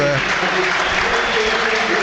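Manchester City fans at home applaud steadily as a substitute comes on during an FA Cup third-round match against Exeter City, a dense, continuous wash of clapping filling the stadium throughout.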